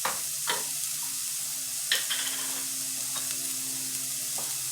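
Rajas, strips of roasted peppers, sautéing in a pan for rajas con queso y pollo, with a steady soft sizzle and a few sharp utensil clicks against the pan, close and without talk.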